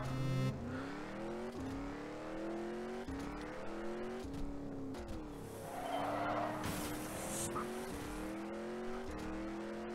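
In the mobile racing game Rebel Racing, a car engine climbs and shifts through repeated gear changes, loud and close, with bursts of tire skidding and squeal partway through.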